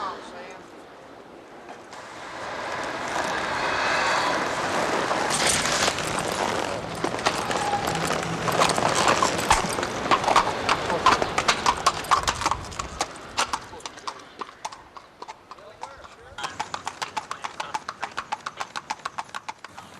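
Oklahoma City police horse on patrol, hooves clip-clopping on pavement in a steady, clear rhythm that grows more distinct toward the end, with someone talking over much of it.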